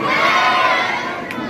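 A crowd at a student event shouting the chant "Jai Anand Kumar" in unison, a dense loud roar of many voices held steadily for over a second.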